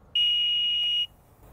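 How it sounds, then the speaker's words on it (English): A groundwater level dip meter probe on a 30-metre cable beeps once as it touches the water in a borehole, a single steady high electronic tone held for about a second, loud and clear with no talk. "you'd need that beep because it would be many metres down and you wouldn't be able to see when it hit the surface"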